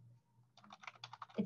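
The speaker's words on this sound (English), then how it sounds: "I'll type it into the chat box." Rapid clicking of keys on a computer keyboard as someone types a short entry into a chat box, a quick run of close taps after a brief quiet start, ending with a slightly heavier keystroke.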